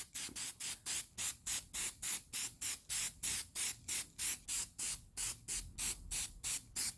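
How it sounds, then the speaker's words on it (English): Short, rhythmic bursts from a spray paint can hiss onto brake parts, about two dozen evenly spaced sprays in quick succession, close and fairly quiet with no talking. "let's go ahead and spray it"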